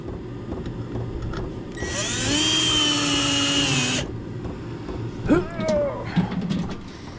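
A power drill drives a screw into thin plywood in a shed, whining steadily for about two seconds and then briefly spinning again, over a background hum with someone talking.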